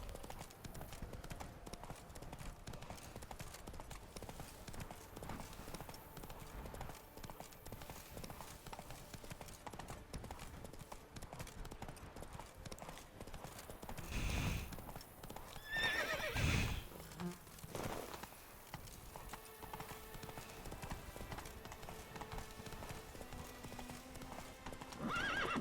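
Geralt's horse Roach from The Witcher 3 gallops with constant rapid clip-clops, whinnying now and then, over game ambience and insect buzz; a louder thump lands midway.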